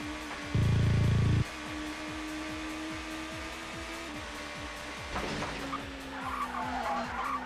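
Touring car skidding and spinning out in the ToCA racing game: a droning engine note with a loud harsh burst of tire skid early on, then a rougher scrape and wobbling squeal later as the car slides.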